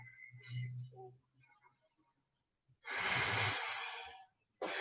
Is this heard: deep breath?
yes